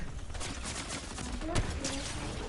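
Gunfire in a video game match rattles in a dense, steady spread of shots, with louder bursts near the middle and a voice talking over it.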